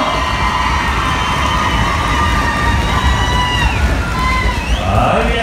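Crowd cheering and shouting in the stands at a bull riding contest, a dense, loud, steady roar that runs the whole time with scattered whistles rising above it.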